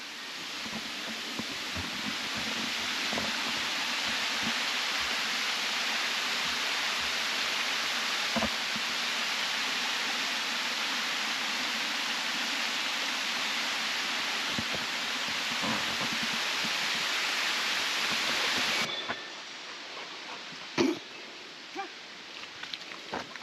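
Steady broadband rush of water pouring past a wooden dam beneath a bridge, continuous and fairly loud for most of the span, then cutting down to quieter flow with a few scattered knocks near the end.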